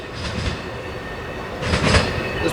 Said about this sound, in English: Metrolink around the corner